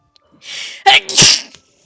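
One sharp, close sneeze, a quick breathy intake followed by an explosive burst, with no other sound around it.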